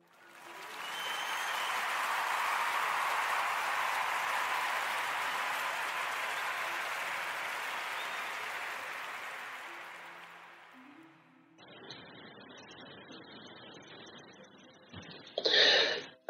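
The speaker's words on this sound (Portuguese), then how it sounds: "quero pedir a todos uma salva de palmas" Sustained audience applause fills the room for about ten seconds, steady and dense, then fades out into a quieter tail with a few scattered claps and a burst of noise near the end.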